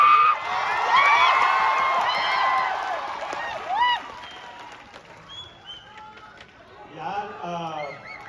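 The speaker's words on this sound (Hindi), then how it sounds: "तो बुलाते हैं आशुतोष सर को एक बार जोरदार तालियों के साथ" Audience applause and cheering at the Kamyab Divas event in Patna, a loud crowd burst with whoops that lasts several seconds, then fades as voices speak over a quieter room.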